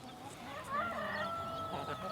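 Chickens cluck and a rooster crows in a small permaculture garden, the calls close and continuous over quiet outdoor background.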